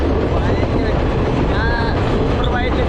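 A Sri Lankan luxury train runs from Ella to Kandy, with a loud, continuous close-up rumble of wheels on rails and occasional faint squeals.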